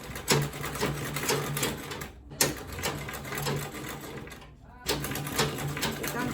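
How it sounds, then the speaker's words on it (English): A sewing machine stitches a quilted tote bag in steady runs, pausing twice briefly before starting again, with a voice talking over the continuous motor whir. "So I'm going to be sewing"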